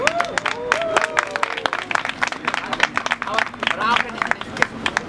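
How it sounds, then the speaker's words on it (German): Clapping and cheering from a crowd at a peace vigil in Vienna, with scattered sharp claps, whistles and voices calling out over a dense, lively background. "Bitte ein kleines Au und einen Applaus für Solidarität"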